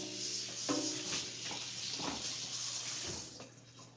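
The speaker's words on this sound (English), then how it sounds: "what we're gonna do is I'm gonna get some water" Water runs steadily from a kitchen tap into a sink or bowl, a continuous close splashing rush lasting throughout with no talking.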